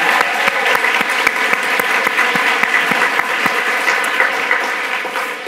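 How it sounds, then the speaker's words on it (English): Attendees at a preservation conference closing luncheon applaud an award winner with continuous, full clapping that stays steady throughout and tapers slightly at the very end. "You can applaud"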